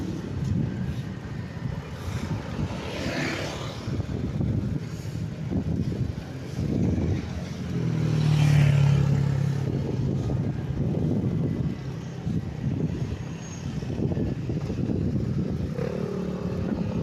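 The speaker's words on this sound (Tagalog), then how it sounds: "Highway yan eh. Maraming motor at tricycle dyan" Motorcycles and tricycles pass along a Philippine highway, a steady broadband engine drone with one louder near pass building around the middle, wind buffeting the microphone throughout.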